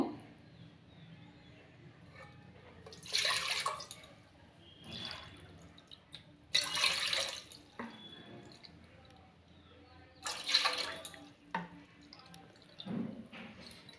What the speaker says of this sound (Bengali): এবার আমি পরিমাণ মতো জল দেব, তো বাটি মেপে জল দেব।